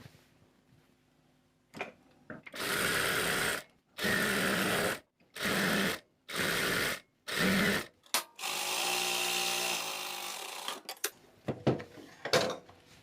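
Electric sewing machine stitching a flared princess-cut kurti panel, running in several loud, even bursts of a few seconds each, separated by short pauses, then a longer continuous run followed by scattered handling clicks.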